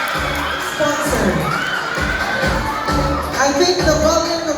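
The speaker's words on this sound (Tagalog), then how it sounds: "I think the volume of crowd is composed of the family of Baliar" A large crowd of family members cheers, whoops and shouts in a loud, continuous swell at a minor awards round of the Miss Mambayaan 2024 pageant, with high children's voices among the roar.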